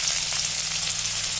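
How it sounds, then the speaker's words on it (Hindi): Onions frying in hot oil in a kadai give a steady, close hiss of sizzling that holds evenly without pause and with no voices. "एबे प्याज पकेबा"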